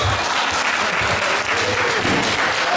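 Audience at a Christmas and New Year mimicry show bursts into sustained applause, a dense, loud wash of many hands clapping without pause.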